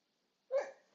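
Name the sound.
dog barking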